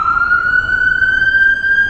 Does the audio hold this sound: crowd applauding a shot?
no